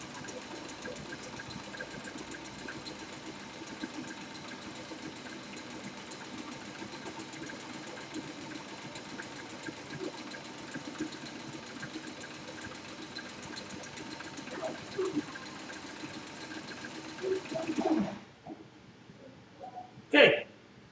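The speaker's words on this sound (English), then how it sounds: "I'll spin it around here and I'll sew it up the other side." A sewing machine stitches the seam of a drawstring bag with a steady, quiet whir for most of the stretch, then stops, followed by a few soft handling clicks and bumps.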